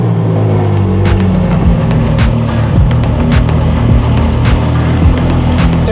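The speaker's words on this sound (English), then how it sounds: "this is the pinnacle of Ferrari, the V8 from the 458 Speciale. This car howls like no other." A naturally aspirated Ferrari 458 Speciale V8 howls loud and close, holding a steady, harmonically rich engine tone that rises and falls slightly in pitch through the whole stretch.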